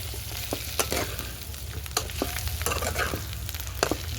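Chicken fries with chili powder in a pan over a wood-fired stove, a dense close sizzle punctuated by sharp scraping and knocking strokes of stirring, without any speech.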